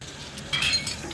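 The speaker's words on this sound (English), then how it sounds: "Broke his glass." Glass shattering in the film The NeverEnding Story: a bright, crisp break with tinkling shards that rises briefly mid-clip over a soft, steady background.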